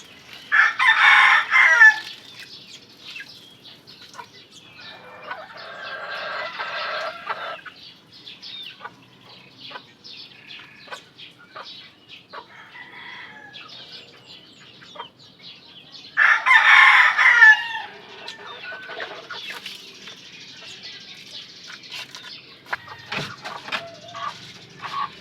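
Chickens and roosters, pullets and stags, crow loudly twice, with bursts of clucking and scattered fowl noises between, nearby and without talk.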